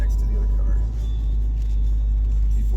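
A 1965 Ford Mustang with a C4 automatic transmission drives along with a steady, deep low rumble of engine and road noise from inside the car, continuous and fairly loud.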